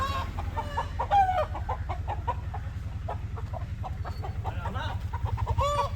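Country chicken (nadan kozhi) clucking repeatedly in a rhythmic, close series over a steady low hum, with a few louder squawks breaking through.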